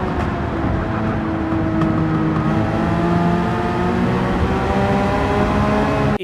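A racing car's engine in Gran Turismo on PS5 drones loud and continuous, its tone climbing steadily as it revs and accelerates, then cuts off abruptly.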